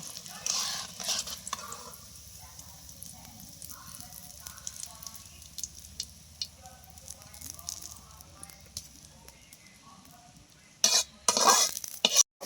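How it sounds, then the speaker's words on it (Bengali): Mushroom omelettes fry one at a time in a pan with a faint, low sizzle and occasional utensil taps, before a burst of loud crackling and scraping near the end, with a voice speaking lightly over it. "এইভাবে আমরা এক একটা করে ভেজে নিব।"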